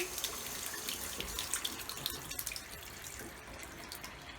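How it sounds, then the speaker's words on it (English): Water from a sink tap in a jungle bungalow in Costa Rica pours in a steady, soft hiss, with faint splashes and drips against the basin, heard close up and alone. "Water flow."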